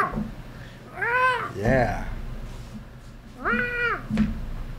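A man imitates a cat with his voice, giving two drawn-out, rising-and-falling meows about two seconds apart, loud and close, with brief talk between them.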